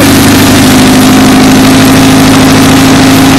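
A loud engine runs close by after an ignition timing adjustment at a steady, even pitch, holding a constant rumble throughout.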